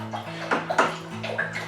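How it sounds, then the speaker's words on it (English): A sterilised spoon swirls priming sugar through apple cider in a homebrew vessel, making sloshing, splashing liquid strokes that come in a few close, fairly loud pulses with no talking. "I'm going to give it a good stir."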